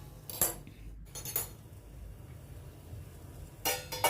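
A plate set down as a lid over a pan of capsicum bhaji made with groundnut powder gives a few light metallic clinks and clatters, with a brief burst near the start and another at the end, close and quiet.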